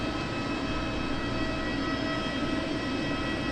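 Airbus A320 airliner engines at Southend Airport, a faint, steady broadband roar heard at a distance, constant throughout with no voices.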